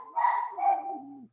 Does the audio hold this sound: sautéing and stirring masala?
no